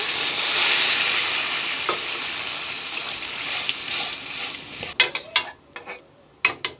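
Spice mix and boiled chickpeas and potatoes fry in a little oil for a samosa filling, giving a steady close sizzle that gives way to a few sharp spoon-against-pan stirring knocks near the end.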